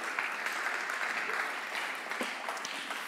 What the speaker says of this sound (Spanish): le damos un fuerte aplauso una vez más a la palabra de Dios